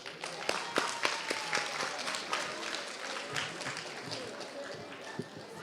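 Ninth-grade students in a school audience applauding themselves at a Black History program, a lively burst of many hands clapping with sharp individual claps standing out, mixed with crowd chatter and voices throughout.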